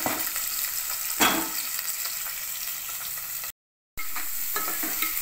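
Garlic cloves, onions and two green chillies fry in a hot pan with a steady, loud sizzle and crackle, stirred now and then, with a brief dropout partway through and no voices.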